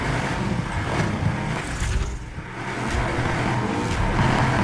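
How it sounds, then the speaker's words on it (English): A heavy car engine revs hard without letup during a race in the video game Need for Speed Heat. It is a loud, dense roar that holds for the whole stretch. "Heavy engine be shaking the car."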